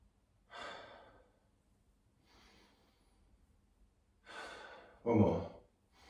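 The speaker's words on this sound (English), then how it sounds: "Into the nose, out through the mouth." During a beginner kung fu workout, someone breathes in through the nose and out through the mouth: a few soft, airy breaths at an unhurried pace, ending on one stronger exhale, close and quiet.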